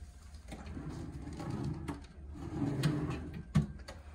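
A drawer in a hotel guest room slides open or shut, a few soft wooden rubs and a sharper knock near the end, fairly quiet and close with no talking.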